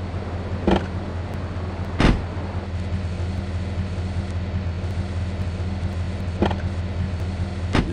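Car driving in Grand Theft Auto III, iOS version, heading toward Hepburn Heights: a steady low engine drone runs throughout, with a few brief sharp bumps or clunks over it and no talk.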